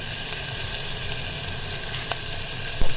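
Ginger and a little garlic fry in a pan, a steady close sizzle holding evenly throughout, with a faint tap or two near the end.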